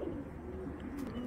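A large female pigeon in a racing pigeon collection gives a low, drawn-out coo, repeated in soft rolling waves at close range, with faint background noise and no speech.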